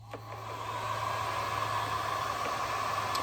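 A hair dryer blows steadily on wet watercolor paint on a wooden heart, a constant close airy whoosh with a droning hum that holds at even loudness throughout, no voices.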